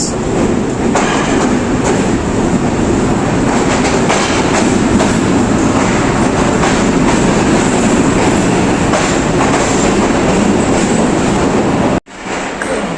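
Pakistani passenger train Jaffar Express, hauled by a Chinese-built locomotive, rolls into Rawalpindi station with a steady loud rumble and clatter of wheels on rails, continuous and close, cutting off abruptly near the end.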